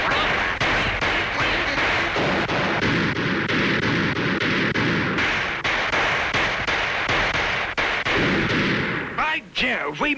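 A cartoon woodpecker voices a rapid string of duck quacks, a vocal imitation of a duck call, heard close and loud over a busy cartoon soundtrack with bangs and gunfire-like bursts.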